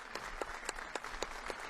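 Guests and officials applaud at a Peruvian anniversary ceremony for the Chavín de Huántar operation commandos, attended by President Kuczynski; a steady, moderately distant patter of clapping with a few sharper hand claps standing out at regular intervals.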